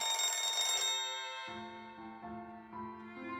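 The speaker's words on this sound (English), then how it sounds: "Fukami goes for the phone." Telephone ringing in the anime Maitetsu, a loud electronic ring with a burst of bright tones followed by a steady repeating ring pattern, alone without talk.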